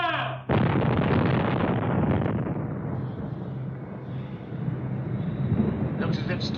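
Anti-aircraft rocket projector battery firing during a wartime air raid: a sudden loud blast of roaring, rushing noise bursts in and sustains for several seconds, with a shouted voice nearby.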